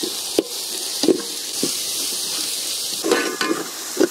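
Chopped tomatoes fry in a pan for a village-style duck curry chukka, a continuous close sizzle broken by regular spoon knocks and stirring clatter.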